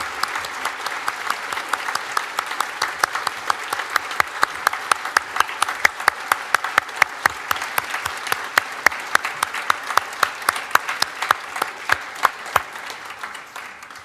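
Sustained applause from the audience in the hall at a Nottingham Trent University law school graduation ceremony, dense steady clapping with sharp individual claps standing out, fading slightly at the end.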